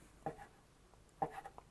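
Knife slicing suluguni cheese into small cubes on a board: two quiet, separate cutting strokes, each a soft thud followed by a faint scrape, close and isolated.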